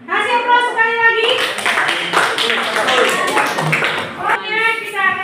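A Class IX-2 classroom claps in a burst of applause in the middle, and children's voices talk before and after it.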